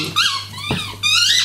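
A 12-week-old puppy plays with a big bone and a squeaky ball, giving several close, high-pitched squeaks in quick succession over a steady low hum.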